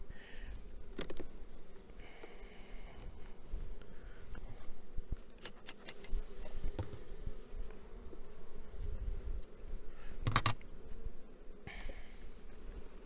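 Carniolan honeybees drone steadily during a spring hive inspection at a small apiary, a close, continuous buzz with occasional sharp knocks and scrapes from handling the frames.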